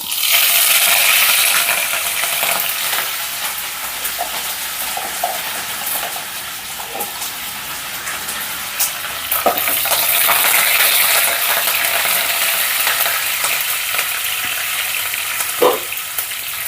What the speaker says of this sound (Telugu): పోపు అయితే చక్కగా వేగిందండి